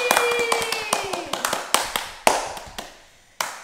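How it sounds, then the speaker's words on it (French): Scattered hand claps from a group opening a summer Olympic-style games event, sharp separate claps that thin out and slow to a few last claps, with a sliding tone fading in the background. "On applaudit! Let's clap our hands!"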